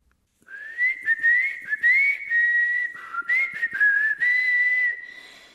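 A person whistles a lilting, sliding bird-like tune, imitating a thrush in a Polish children's tale about a fox and a rooster. The melody is near and clear, in short phrases with brief gaps, without talk.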